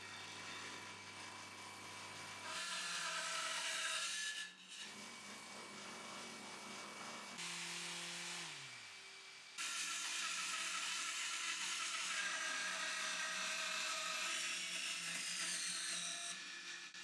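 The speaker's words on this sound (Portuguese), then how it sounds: "Essas faces internas eu tive que lixar à mão com uma lixa enrolada em uma cavilha." Hand sanding of the inner faces of reclaimed wooden furniture with sandpaper wrapped around a dowel, a steady close rasping rub in long continuous strokes, with brief pauses between passes.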